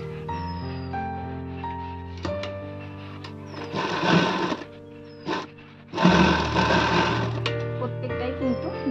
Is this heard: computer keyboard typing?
no